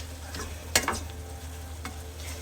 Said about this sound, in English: just keep chopping up the turkey and so that it moves around and it hits the heat and it cooks real well